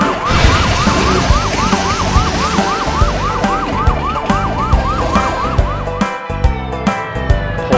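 A fire truck siren wails in a fast, repeating up-and-down cycle, loud and close over a rumbling vehicle and dense background sound, then fades out near the end.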